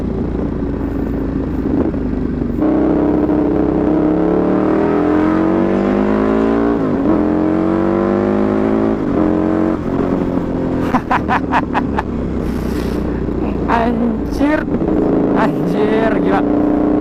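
A Ducati Evo 848 motorcycle engine revs loud and close, rising and falling in pitch with sharp blips of throttle toward the end, while someone talks over it.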